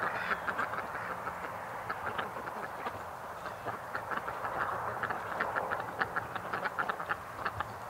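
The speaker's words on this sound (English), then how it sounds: "There is a pretty duck, guys." Ducks quack repeatedly in short, scattered calls over a steady outdoor background hum, the flock sounding fairly near and continuous throughout.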